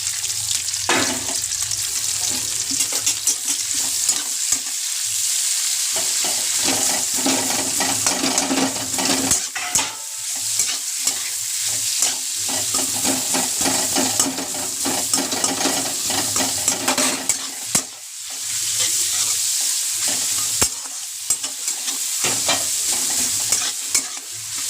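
Chopped onion and green chilli sizzle steadily in hot oil in a pan, with the scrape and clatter of stirring running through the whole stretch, close up and without any talk.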